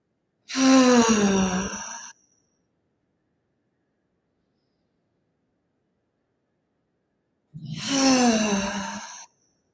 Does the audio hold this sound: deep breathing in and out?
yes